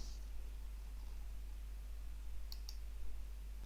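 Two quick, faint computer mouse clicks land close together near the end, over a steady low hum and quiet background hiss.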